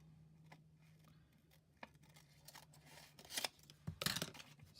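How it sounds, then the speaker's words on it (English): Scissors snipping a post-it note for a crown cutout, close and quiet, with small irregular clicks building into a few louder cuts toward the end over a faint steady hum. "I'm going to do it on this post-it note, and then I'm going to cut"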